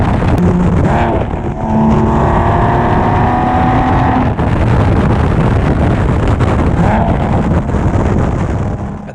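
A 2001 Porsche 911 Carrera 4 of the 996 generation with over 101,000 miles runs loud and close, its steady engine drone carrying faint whining tones, with a brief dip in level partway through and no talking.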